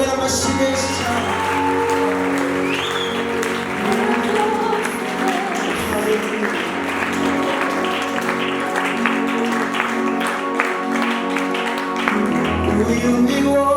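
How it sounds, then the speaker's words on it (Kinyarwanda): Audience applause at a worship gathering, steady and loud throughout, blended with sustained music from the band playing underneath. "Reka tumukomere amashyi menshi cyane."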